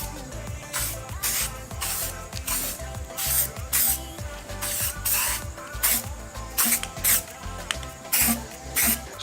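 Bedliner coating hisses from an aerosol spray can onto a Nissan S13 car in repeated short bursts, each spray lasting about a second with brief pauses between, close and fairly loud.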